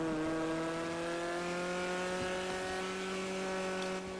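Classic Grotti sports car engine in GTA 5, a steady sustained drone with strong harmonic tones, loud and continuous throughout, with no one talking.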